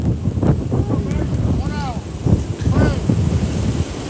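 Strong wind rumbles across the microphone at a baseball field, a constant heavy roar with gusting surges, while voices and faint whistling calls sit beneath it.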